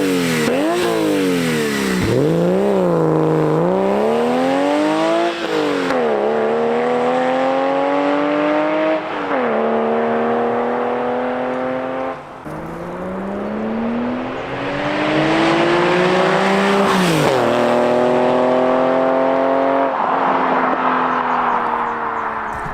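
Modified off-road Porsche 911 with a 1999 interior, its engine revving repeatedly, loud and close, climbing through long rising sweeps with brief drops between pulls and no voices.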